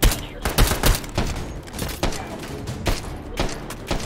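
Assault rifle fire in a modded video game: rapid bursts of sharp shots in quick clusters, loud and close, with a brief lull in the middle before the firing resumes.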